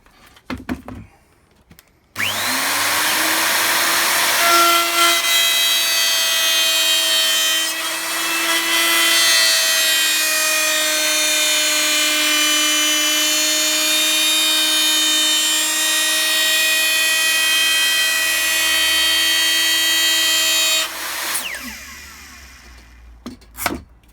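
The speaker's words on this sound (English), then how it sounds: "Because I'm only using a 1/4 inch router bit, I don't want to take too much material off at once" A router fitted with a 1/4 inch carbide bit cuts rebated plywood, a loud steady high whine with strong tonal harmonics running about twenty seconds before spinning down, close and alone.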